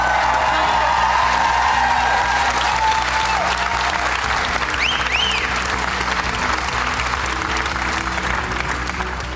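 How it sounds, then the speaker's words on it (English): Loud, sustained audience applause fills a large theater at a magic act during a Britain's Got Talent magicians final, dense steady clapping from start to finish with no talk over it. "Everyone will give you a really big round of applause."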